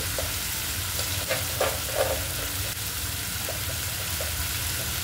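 Onion and tomato sizzle and fry steadily in a pan with salt added, a continuous close crackle with a few stirring clatters partway through.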